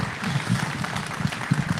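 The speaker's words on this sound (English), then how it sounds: "So one more round of applause for Ben here as well." Short burst of crowd applause at a Bitcoin conference roast, fairly loud and close, with uneven clapping pulses throughout.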